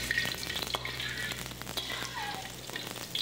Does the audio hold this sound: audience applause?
no